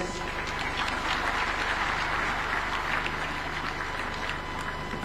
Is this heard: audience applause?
yes